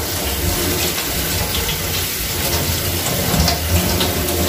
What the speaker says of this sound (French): Je vais rajouter un peu d'eau froide juste pour stopper la cuisson.